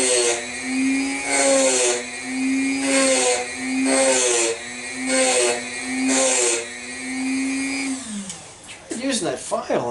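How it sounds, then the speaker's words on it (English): A small Dremel rotary tool grinds hard steel on an engine part, whining in several rising-and-falling bursts as it bites, then spinning down near the end with handling noises. "I set my little Dremel up here, and so I'm going to take a little bit more off this."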